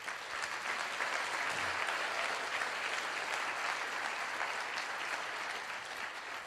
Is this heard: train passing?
no